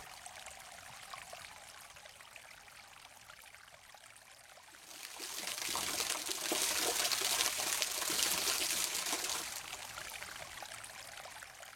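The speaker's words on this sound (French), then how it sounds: "le silence est rompu par le murmure d'un chemin d'eau" Water running along a narrow channel in the Marqueyssac hanging gardens at Vezac, France, a soft steady murmur at first that swells into a louder rushing flow midway, then eases slightly, with no voices.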